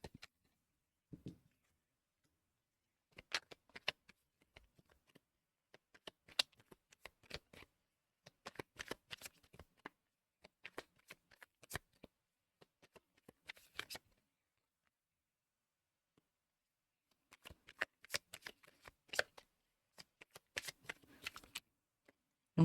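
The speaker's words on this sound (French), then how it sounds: "Je vais ramasser ces cartes." Tarot cards being shuffled, soft riffling and flicking bursts in several separate rounds with quiet gaps between them, faint and close, no talking.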